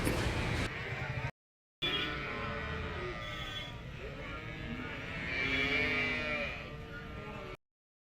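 Native cattle at the Puliampatti cattle market in Erode district, Tamil Nadu, give a series of drawn-out lowing and bleating calls over crowd murmur, with a loud stretch near the middle and a brief gap early on.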